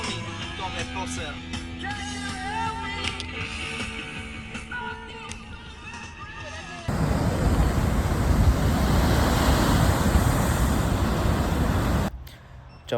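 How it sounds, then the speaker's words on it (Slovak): Ocean surf crashing onto a beach in Porto, a loud steady roar of breaking waves that takes over after a stretch of talk and music, then cuts off abruptly near the end. "To sú vlny, to je poser."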